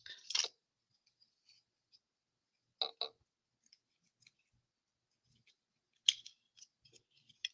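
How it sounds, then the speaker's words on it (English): Scissors snipping paper for a handmade snowflake card, with a few crisp, close cuts spaced apart, several in quick pairs, and small faint clicks in the near silence between them. "just a snip and a snip"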